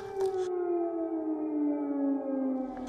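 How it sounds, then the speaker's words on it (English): An air raid siren sounds over a Ukrainian city: one long, loud wail that slowly sinks in pitch and carries steadily through the whole stretch with no voices. "The sharp wail of the air raid sirens across Ukrainian cities"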